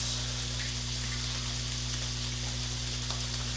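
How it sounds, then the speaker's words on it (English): Butter melts in a pan for garlic fried rice, giving a soft, steady sizzle that stays even and continuous over a constant low hum, with no voices. "While that butter melts."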